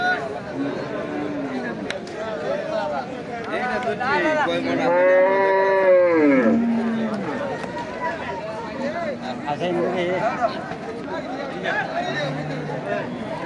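Friesian cattle moo loudly several times, one long bellowing call standing out, amid a busy cattle market crowd with people chattering throughout.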